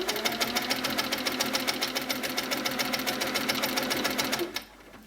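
An HQ Sweet Sixteen sit-down quilting machine stitching along a ruler: a fast, even mechanical stitching rhythm, loud and close, running steadily before stopping abruptly near the end, with no voice.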